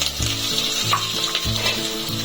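Moong dal dry-roasting in a pan crackles steadily up close, while a utensil scrapes and stirs it in repeated strokes.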